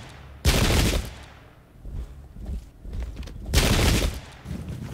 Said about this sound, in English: hopefully they can only get half salvo volleys on us